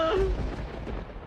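Thunder during a storm rumbles low and deep in a short burst, fading out over about a second, heard alone without talk.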